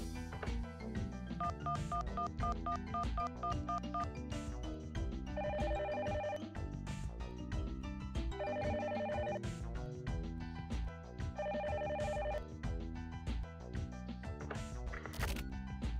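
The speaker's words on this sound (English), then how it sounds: "calling Erica's cell phone" Repeating electronic ring tones in bursts from a cell phone call in the video game The Silver Case, sounding over continuous game music with no talking.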